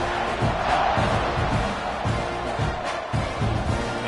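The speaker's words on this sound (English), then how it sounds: "you think this crowd's going to get loud when their defense comes on the field?" A large football stadium crowd at a college game roars and chants steadily through the whole stretch, loud and dense, with rhythmic pulses of shouting as a kickoff approaches.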